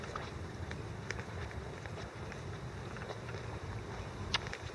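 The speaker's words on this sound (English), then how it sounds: "And there's the wind." Low, steady wind rumbles and buffets the microphone outdoors in Glen Park, East Vancouver, faint and continuous with a few small clicks scattered through it.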